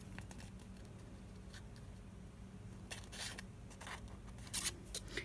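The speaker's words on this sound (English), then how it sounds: "And I just have to get my scissors up there far enough so that I can cut it." Quiet, close snips of scissors cutting the corner off a paper envelope, a few short crisp clicks scattered over soft background rustling, with no talking.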